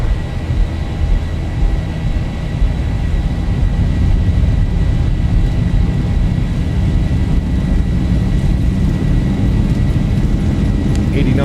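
Boeing 737-800 engines at takeoff thrust in the X-Plane 12 flight simulator, Zibo mod, heard from the cockpit as a loud, steady, broadband roar that holds constant throughout.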